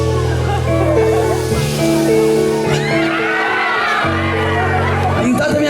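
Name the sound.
crowd imitating a seagull call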